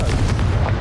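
A Confringo spell in Hogwarts Legacy sets off a brief, loud, booming blast with a heavy low rumble, close and alone.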